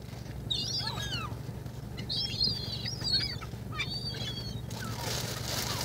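Seagulls call in repeated squealing cries over a steady low background hum while bread is thrown to them from a window, with ducks also being fed nearby.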